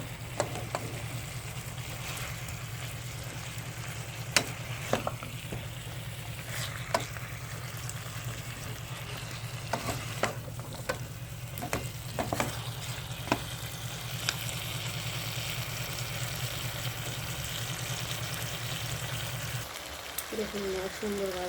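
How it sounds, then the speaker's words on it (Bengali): Marinated chicken fries in a pan in a continuous close sizzle. A spatula scrapes and taps now and then while it is stirred, and a low hum runs underneath until the clip is nearly over. "ম্যারিনেট করা চিকেনগুলো আমি দিয়ে দেবো। সুন্দরভাবে কষিয়ে নিতে হবে।"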